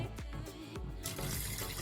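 Tap water pours steadily into a sink drain just treated with Flup drain cleaner, a continuous close rushing splash that swells slightly louder partway through.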